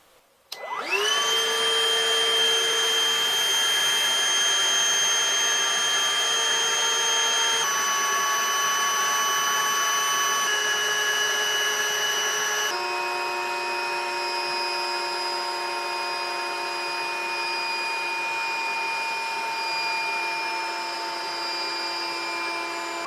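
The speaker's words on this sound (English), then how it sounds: "I'm going to turn it on and put this over the nozzle to put a load on the vacuum" A Milwaukee cordless vacuum powered by a Dewalt 4 amp hour battery starts up and runs with a steady high whine under load, its pitch shifting slightly a few times as the motor works.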